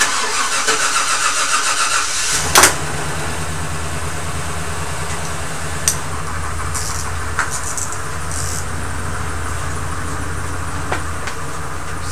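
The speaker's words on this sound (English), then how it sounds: "Yeah, that engine just started" A Chevy car engine cranks and catches with a sharp burst, then settles into a steady, close idle rumble that runs to the end, with a few small clicks and knocks over it.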